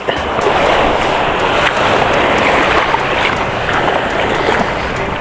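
Rough, choppy sea slapping steadily against a small fishing boat facing open water on a reef, a broad continuous wash of waves and wind with no breaks, loud and close.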